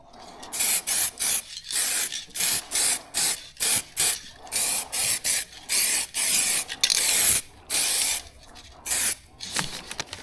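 Drag bike parts being spray painted, with rapid bursts of aerosol hiss, each lasting about half a second and separated by short gaps, recorded close and fairly loud throughout.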